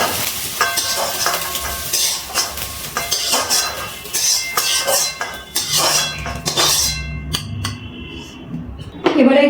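A fried egg is lifted out of a wok onto a plate while cooking mixed fried rice, with spatula scrapes and metallic clinks over steady oil sizzle. The sounds come close and fairly loud, and no one speaks.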